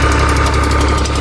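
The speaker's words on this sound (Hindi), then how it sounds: "न्यू जो ट्यूबवेल है वो सामने चल चुका है" A newly installed tubewell pump engine runs steadily nearby, a loud continuous mechanical drone with a rapid knocking pulse and strong low thump, with no voices over it.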